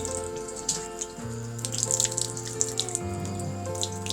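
Tap water runs in a steady stream while a pet snake drinks from it, giving a continuous close trickle with small splashes and gurgling shifts in pitch.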